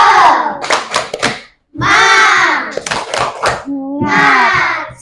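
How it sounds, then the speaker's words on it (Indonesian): Schoolchildren in a classroom doing a rhythmic spirit clap routine, loud group chanting with bursts of patterned clapping, a short pause, then more shouted chant and claps. "Oke, tepuk semangat."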